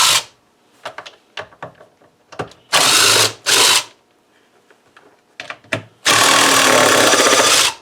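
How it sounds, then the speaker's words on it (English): A power tool whines in two loud, sustained bursts, backing 13mm lag bolts out of a bench vice fixed to the bench through 2x4s, with quieter clanks and handling knocks between the bursts. "my vice is attached to the bench with some 13mm lag bolts, so I'm just going to pop those out"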